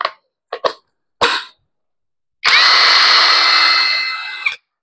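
A Purple Star 48V cordless brushless impact wrench fires a few short bursts, then runs in one loud, sustained near burst of about two seconds before cutting off. No one speaks.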